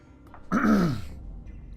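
A single throaty cough or throat-clearing rasp, close and moderately loud, followed by quiet.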